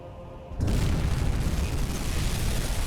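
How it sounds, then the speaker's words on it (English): In a U-boat submarine video game, a torpedo strikes a convoy ship with a sudden loud, deep explosion that rolls on as a sustained rumbling roar after a quieter start. "Good solid hit for the torpedo there."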